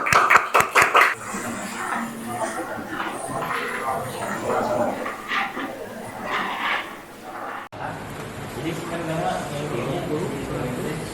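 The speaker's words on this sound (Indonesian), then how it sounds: "Oke, tepuk tangan ya." A short round of hand clapping from a group opens the moment, a few quick loud claps, followed by ongoing talk in a room.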